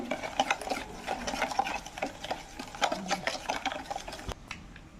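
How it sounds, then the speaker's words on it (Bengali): Palm fruit pulp is stirred together with sugar and oil in a bowl, giving a steady run of close, rhythmic scraping and squelching strokes that continue without a break and with no talk. "আমি এটা চিনি, তেল আর তালটাকে ভালো করে মিশিয়ে নেব।"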